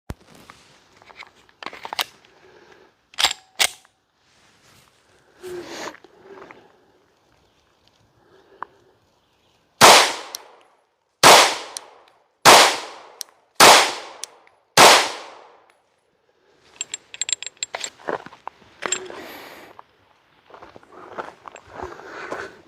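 A handgun fitted with a Gideon Omega red dot is test fired outdoors: five loud, sharp shots in a steady series with echoing decays, surrounded by quieter handling clicks and clatter.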